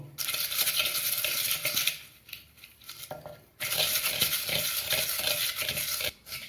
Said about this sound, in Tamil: முதல்ல இந்த மிளகாயை கடைஞ்சிக்குவோம்